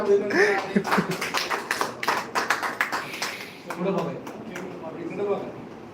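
Applause at a live Marathi political gathering, bursts of scattered hand claps rising in the middle, heard over and between someone speaking.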